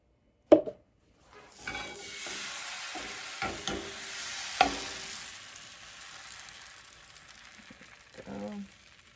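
Crepe batter cooking in a buttered pan, a steady soft sizzle broken by scraping and tapping clicks as the pan is swirled, with brief speech nearby.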